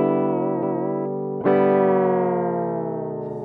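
Electric guitar with its whammy bar pushing the bridge up and down: a sustained note wavers in pitch, then a fresh loud note drops in pitch and slowly decays, played alone with effects.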